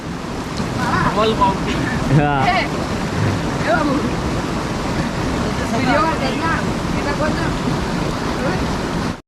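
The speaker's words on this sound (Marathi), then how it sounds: "बघा किती प्रेशरने खाली येतं" A river in Ratnagiri, Konkan, rushes down under pressure, a loud, dense, continuous roar of water with people talking over it.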